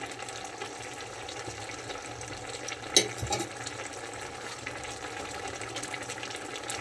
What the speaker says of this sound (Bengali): সবজিটা ফুটছে